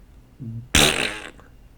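A voice imitating a fart with the mouth, one short loud blurt of about half a second, close up and on its own.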